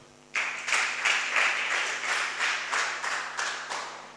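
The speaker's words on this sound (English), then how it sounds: "You can also clap on my behalf now." An audience at an entrepreneurship bootcamp at Ruharo vocational training centre breaks into steady, rhythmic clapping that starts abruptly and holds at an even, fairly loud level, with pulses every third of a second or so.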